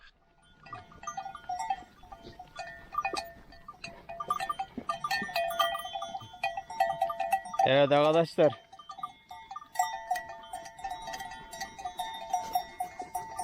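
A goat lets out a loud, wavering bleat in the middle during mating season, with brief talk and farmyard clatter and jingling around it.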